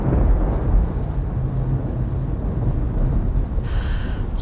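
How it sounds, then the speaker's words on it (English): Hail falling during a storm, a dense, continuous roar of pelting impacts with heavy low rumble, steady throughout with a brief brighter rattle near the end. "That is definitely hail."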